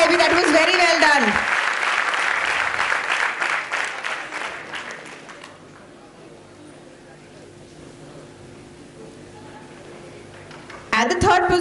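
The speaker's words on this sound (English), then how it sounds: "You promised me you're going to applaud." Applause for a competing team at an extempore event, loud dense clapping and crowd noise that fades to near silence by the midpoint, then a brief burst returns at the very end.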